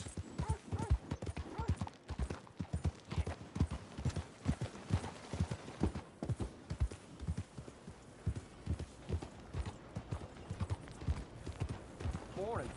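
Horse hooves clip-clop in a steady rhythmic trot in the video game Red Dead Redemption 2, close and continuous throughout with low rumbling game ambience.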